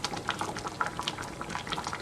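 A pot of liquid at a steady rolling boil on a stovetop, bubbling and popping in a continuous, busy patter close by, with no voices.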